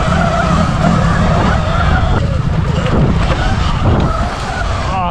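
A Sur-Ron X electric motorbike brakes and slides its rear tyre across loose sand, giving a loud, continuous scrubbing skid with steady drive noise close by throughout.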